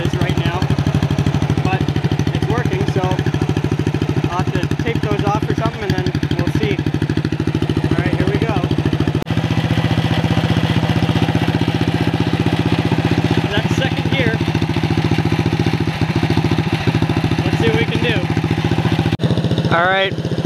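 Small racing lawn mower engine with a two-speed transmission and live axle idles steadily and loudly up close, with a continuous throbbing drone throughout and someone talking over it.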